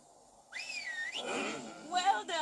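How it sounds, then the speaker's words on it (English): A zombie whistling in the video game Stubbs the Zombie: a rising, wavering whistle tone followed by several warbling whistled phrases, fairly close and clear over soft game ambience. "Now purse those lips and whistle"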